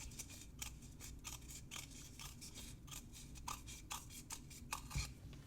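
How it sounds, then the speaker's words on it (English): Fabric scissors trim excess cloth from around the edge of a covered disc for a handmade ghost ornament: a quiet series of short, crisp snips and rustles in an irregular rhythm, close by. "you are once more going to use your fabric scissors to just trim away the excess all the way around the equator"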